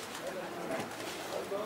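A racing pigeon coos softly at the loft as it arrives during a club race, a few faint murmuring coos under nearby talk and background noise.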